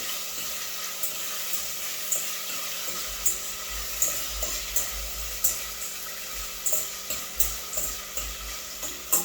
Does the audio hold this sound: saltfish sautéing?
yes